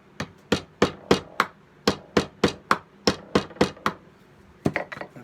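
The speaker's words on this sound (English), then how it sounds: "grab my mallet, and just give this a couple taps until I hear it hit the bottom where the screw is." A mallet taps a poplar dowel into a hole while building a wooden beer caddy, giving about seventeen sharp, close wooden knocks in quick, steady runs with brief pauses.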